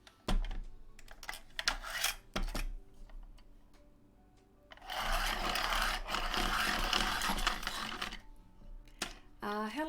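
A coloured pencil is sharpened up close, a sustained grinding scrape lasting several seconds after a run of light ticks and clicks, with faint background sounds.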